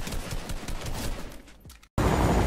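Rapid automatic gunfire from a drum gun in Fortnite, a dense rattling burst that thins out, drops to a brief silence and then comes back loud and sustained.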